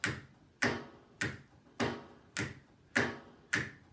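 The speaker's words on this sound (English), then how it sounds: "now snaps" Seven crisp finger snaps sound one at a time at an even pulse during a primary-school rhythm exercise, each bright and close with a brief tail, with no talking.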